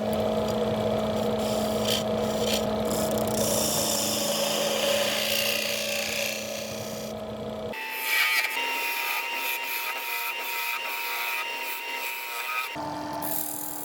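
A wood lathe spins a spalted sweetgum bowl blank while a tool shapes the tenon, giving a loud continuous whirring hum with scraping rasp, which shifts abruptly partway through as the cut changes.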